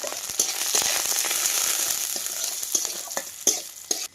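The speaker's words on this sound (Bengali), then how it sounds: "তেল কিন্তু গরম হয়ে গেছে এবার দিয়ে দেবো দুটো শুকনো লঙ্কা আর একটু পেঁয়াজ রসুন কুচি আর একটু কালি জিরা" Dried chillies, chopped onion, garlic and kalonji frying in hot oil, a bright steady crackling sizzle punctuated by sharp pops and stirring clicks, close up.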